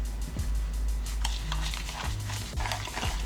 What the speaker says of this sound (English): then I'm gonna stir it together